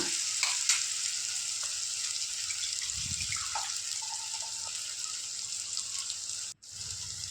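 Vegetables and boiled rice frying in a pan for vegetable rice, a steady close sizzle throughout with a few brief stirring scrapes and a short break near the end.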